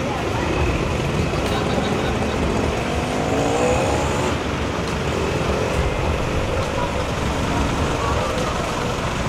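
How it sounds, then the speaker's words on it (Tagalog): A rattly, worn-out old car forced to start, its engine churning and roaring loudly and continuously nearby with a rough, clattering tone. "Pinilit pinaandar ni Kuya ang kakarag-karag na sasakyan."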